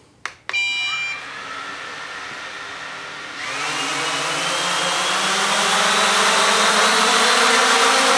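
Quadcopter drone motors spinning up from a couple of short beeps into a loud, steady whine that rises in pitch and grows stronger as the throttle increases, with no one talking.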